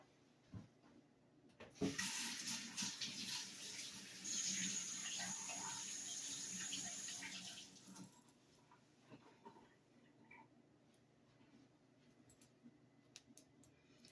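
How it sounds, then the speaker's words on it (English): Hands washed under a running kitchen tap: a burst of splashing water starts abruptly and runs steadily for about six seconds, then cuts off, leaving faint drips and small clicks in a quiet room. "Just gonna wash my hands."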